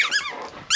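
An Australian Shepherd plays fetch outdoors, giving short, high squeaky yelps and whines in quick bursts at the start and again at the end, close and fairly loud.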